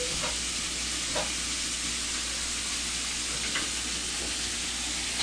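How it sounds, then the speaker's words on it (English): Pork sautéing in bacon grease on an indoor cooktop, a steady loud sizzle and hiss throughout with faint scraping touches, no talking. "Sauteed in bacon grease."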